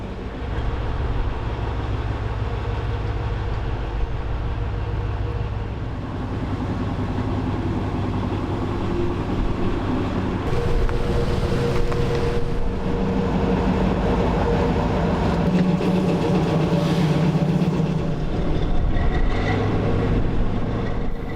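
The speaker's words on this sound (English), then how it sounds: "after the points were switched, shunted the tanker up to the cinema wagon on the loading dock siding" A locomotive shunts a tanker wagon over railway points onto a loading dock siding: a continuous heavy rumble of wheels and engine with scattered clanks and squeals, close and loud, no voices.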